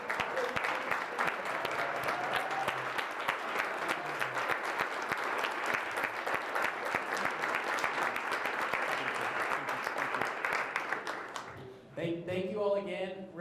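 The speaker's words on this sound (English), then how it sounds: "just a round of applause for being here" Sustained applause from a conference reception audience honoring finalists, a dense steady patter of many hands for about eleven seconds before fading out as a voice begins speaking.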